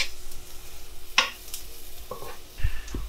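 Eggplant frying in a pan, stirred now and then: a faint sizzle runs underneath sharp clinks and scrapes of a utensil against the pan and a few low thumps.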